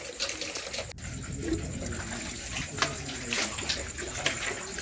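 Tap water runs steadily into a bucket at home, a continuous splashing and gurgling fill heard up close with a few knocks and small clatters, and no one talking over it.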